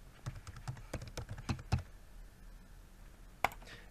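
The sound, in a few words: typing a password on a computer keyboard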